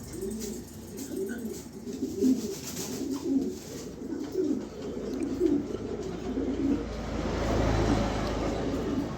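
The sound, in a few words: young pigeons cooing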